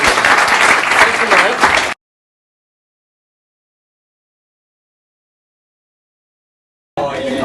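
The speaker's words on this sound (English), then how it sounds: "Give him a round of applause" Applause from the audience at a sales mastermind event: a dense burst of clapping for about two seconds that cuts off abruptly into silence before talk resumes.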